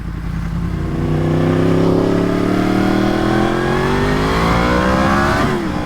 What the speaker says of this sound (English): Dang, she sounds like an R1, dude. She sounds like an MT-10.